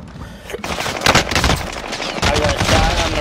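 Dense, loud automatic gunfire and repeated shots rattle continuously around the player in Call of Duty: Warzone, bursts overlapping with close impacts and a sustained roar of combat.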